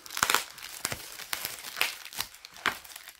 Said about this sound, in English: So unwrap this vinyl